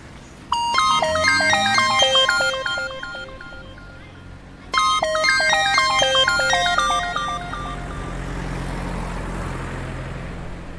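An incoming phone call rings with a repeating electronic melody, two bursts separated by a short pause, fairly loud and close, followed by a low rumbling background.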